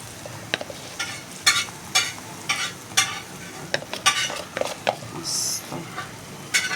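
Prawns cook in a pan with turmeric and Agri masala, a steady sizzle under repeated scraping strokes of a spoon stirring through the mixture, close up with no talk.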